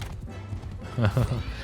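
Horses galloping during a horse archer battle in Mount and Blade 2 Bannerlord, a short burst of soft rhythmic hoofbeats that grows louder toward the end, with game noise underneath.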